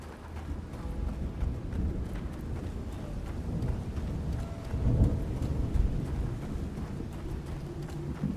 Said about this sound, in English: Thundering.